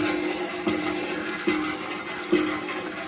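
Water being pumped from a hand pump in a village, with three rhythmic strokes, each bringing a gush of splashing water over a steady running flow.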